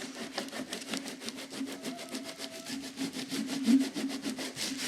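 Steady rhythmic rubbing of wet paper being worked off a photo transfer on watercolor paper, a continuous scraping friction with a low hum underneath, close and moderately loud with no talk.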